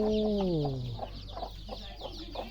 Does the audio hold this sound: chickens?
yes